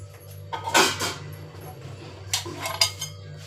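A lid set onto a cooking pot in a home kitchen, a few close metallic clanks and clinks in quick succession with faint scraping between them.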